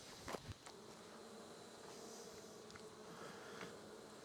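Honey bees from a top bar nuc colony hum in a steady, faint buzz, with a few soft knocks near the start and no talking.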